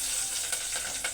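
Cooking oil sizzles steadily in a hot pan, a close, continuous hiss with small crackling bursts and no voices.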